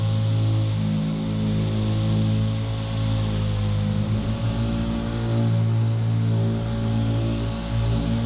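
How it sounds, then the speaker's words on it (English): A DA sander with 240-grit paper works over primer and body filler on a car body, a loud continuous whirring drone with steady tone and no pauses. "I'm going to take the DA with 240 and go over this"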